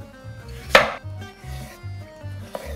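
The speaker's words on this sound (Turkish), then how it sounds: "Böyle patatesi kalın kalın kesiyorum." A knife slicing firm potatoes into thick slices, one sharp cut and a lighter one later, faint and close over a low background hum.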